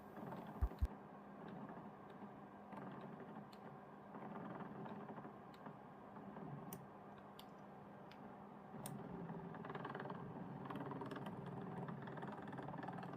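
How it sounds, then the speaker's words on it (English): Yaber Ace K2s projector lens motor grinding with a broken-teeth sound, a low steady mechanical drone with faint ticks over its whole length, close and fairly quiet. "It almost sounds like the teeth are broken on the motor."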